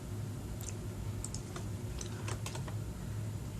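Computer keyboard typing during GIS software work, a short burst of quick, close keystrokes over a steady background hum, with no voices.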